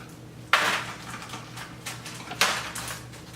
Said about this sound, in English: I'm just going to go ahead and pull these babies off the grate. Chunk them in our aluminum pan here.